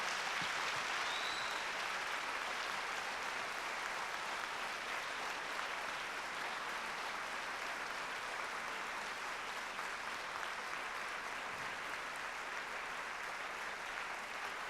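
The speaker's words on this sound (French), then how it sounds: "Je vous demande de les applaudir encore une fois très très fort." Loud, sustained applause from a large audience at the L'Oréal-UNESCO For Women In Science awards ceremony, a dense, even roar of clapping holding steady for the whole stretch with no speech over it.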